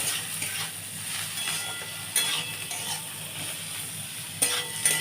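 Poppy seeds and chilli frying in a pan give a steady, fairly quiet sizzle, broken by a couple of sharper stirring scrapes and knocks against the pan.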